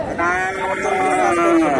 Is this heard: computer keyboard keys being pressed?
no